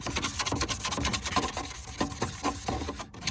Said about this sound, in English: Gonna scuff them up real good.